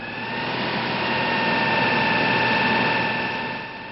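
A Citroën 2CV engine runs steadily and loud at close range, a continuous droning hum with a slight swell in the middle and a fade at the end, with no voices.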